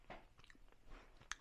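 Someone chews a piece of homemade bacon sliced along the grain, producing soft, close, irregular chewing and biting sounds with a faint crunch near the end.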